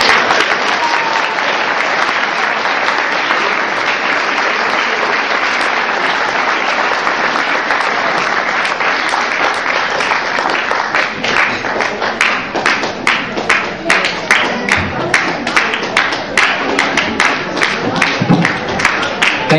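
Crowd applause for a boy at his bar mitzvah celebration, a long sustained burst of clapping that thins into sharper, more distinct individual claps toward the end.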